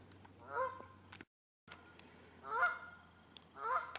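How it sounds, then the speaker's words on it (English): Geese honk on the bank of the River Thames in three separate bursts of loud, nasal calls, fairly close, over a quiet outdoor background with a brief gap of silence between them. "Geese in the background."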